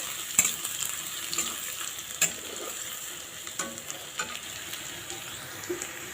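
Leafy greens fry with onion and garlic in a pan, giving a soft, steady sizzle up close. Occasional sharp clinks and scrapes of a utensil stirring punctuate it, with no voices.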